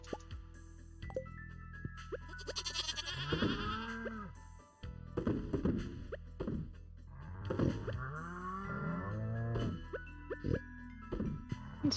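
Goats bleat repeatedly in the farm game Stardew Valley, several cartoonish calls close up over a steady game music background with no talk.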